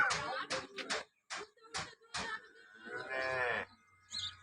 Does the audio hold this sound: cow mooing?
yes